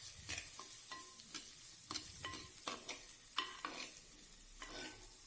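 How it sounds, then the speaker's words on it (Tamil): Onions sauté in oil in a pan for a vegetable white kurma, with repeated spatula scrapes and taps in an irregular rhythm over a soft, fairly quiet sizzle. "பெரிய வெங்காயம் சேர்த்தி நல்லா இந்த எண்ணெயிலேயே வணக்கி விடுங்க"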